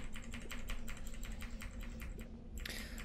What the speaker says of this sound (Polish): Sorry za klawę, widzę, że całkiem mocno ją słychać